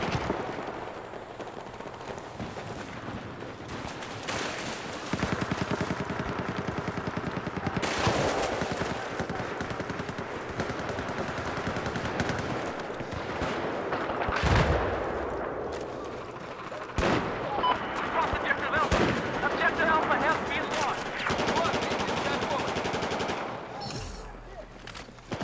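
Sustained bursts of automatic machine-gun fire from a Battlefield V battle, loud and close, rattling almost continuously with brief pauses and scattered heavier blasts.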